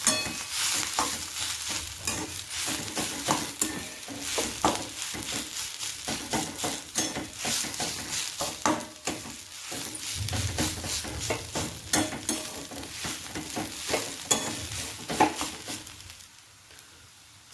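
Chickpea greens being stirred with crushed peanuts in a pan, a steady soft sizzle with repeated scraping and clinking of a spoon against the pan, fairly close and with no talking.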